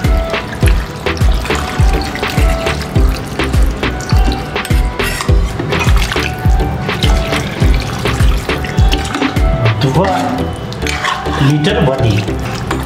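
Water runs into a cooking pot in a kitchen while paya soup is being made, a steady splashing stream with rhythmic dripping, and people speak over it.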